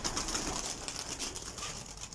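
Iraqi homing pigeons coo and flutter close by, soft throaty calls mixed with light wing flaps against a hissy outdoor background.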